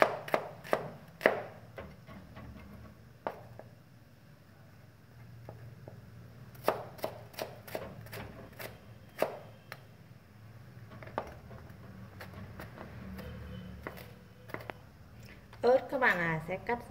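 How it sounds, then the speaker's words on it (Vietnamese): Sharp, evenly spaced knife strokes chop shallots on a cutting board in a home kitchen, coming in quick bursts separated by pauses, close and crisp, with a soft background hum. "Hành các bạn làm băm ra cho mình"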